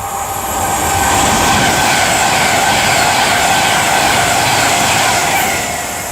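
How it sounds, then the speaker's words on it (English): A Pendolino electric passenger train on a Stafford to London Euston service passes through Nuneaton station, a loud, steady rushing roar with a high whine that swells in and holds for several seconds, with no voices. "Pendolino, right. 5 Mike 56 Stafford to London Euston."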